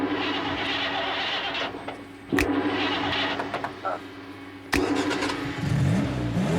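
A car engine cranks and catches, then runs and revs in short bursts, close and loud, with sharp clunks around the start.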